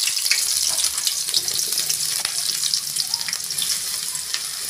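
Chopped onions hit hot oil with bay leaf, cinnamon and cloves for a ridge gourd gravy, giving a loud, bright, continuous sizzle with small pops and crackles throughout.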